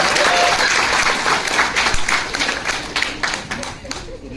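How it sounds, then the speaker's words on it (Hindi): Audience applause and clapping fill a hall from start to finish, a dense, steady wash of many hands that fades slightly toward the end, with talk mixed in underneath. "तो इसी बात के लिए ताली हो जाए।"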